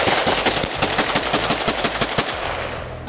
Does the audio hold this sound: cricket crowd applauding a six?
no